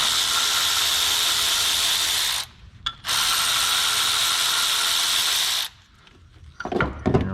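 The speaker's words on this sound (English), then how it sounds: "Finish removing these bolts." A ratchet wrench spins off bolts on a Ford Mustang engine during water pump replacement. Two long bursts of rapid, loud close clicking are separated by a brief pause, then metallic tool clatter at the end.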